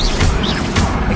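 A Depulso spell cast in the Hogwarts Legacy video game, a loud continuous magical blast with a crashing, whooshing burst lasting just over a second, no voices heard.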